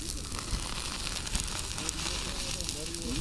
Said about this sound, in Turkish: Ateşli et yapıyoruz bak ateşli.